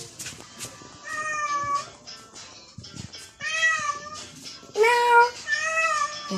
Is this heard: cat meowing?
yes